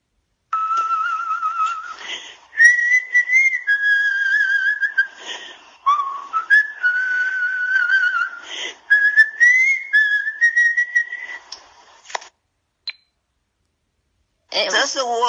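An 86-year-old woman whistles a melodic tune from a played-back recording, clear sustained notes in phrases with short pauses, close and alone, ending abruptly.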